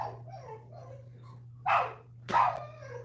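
Several puppies bark in two short, loud bursts near the end, with softer yips and whines before them over a steady low hum, and no one talks.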